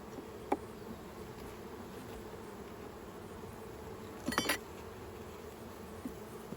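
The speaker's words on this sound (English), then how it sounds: "While we're waiting for those bees to come out" Honey bees buzz around a hive box during a honey harvest, a steady faint hum with a few louder passes close by and brief knocks.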